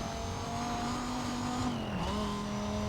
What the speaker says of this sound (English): we've got a Mazda RX-7, a Porsche Cayman, and a Mercedes SL55